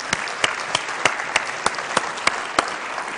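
A small audience claps at the end of a sung performance. Soft, scattered applause runs throughout, cut by a steady rhythm of sharp, louder claps roughly every third of a second, as if one nearby person is keeping a beat.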